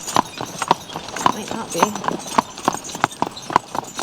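Horses walking with a steady clip-clop of hooves, each strike sharp and evenly spaced about every half second, heard close by while people talk over it.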